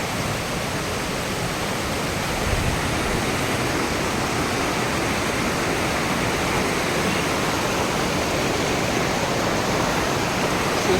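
A flood-swollen river rushes in a loud, steady, unbroken roar of churning water, heard close and alone without any voices, in a flood- and landslide-hit area near Tinchhange.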